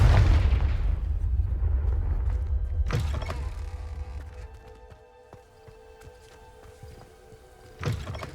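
A Confringo blast spell in the Hogwarts Legacy video game lands with a deep, loud boom at the start that rumbles away, followed by a second thump and smaller clunks and crackles in a quiet room.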